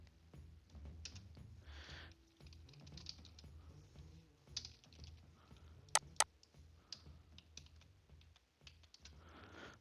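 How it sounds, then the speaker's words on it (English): Faint, close typing on a computer keyboard, an irregular run of soft key taps with a couple of sharper clicks, no voices. "so when you are typing the password"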